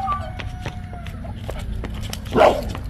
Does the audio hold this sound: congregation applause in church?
no